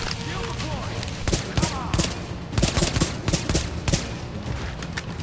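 M1911 pistol shots in The Division combat, several sharp reports spaced irregularly over constant background game noise, with louder bursts clustered in the middle.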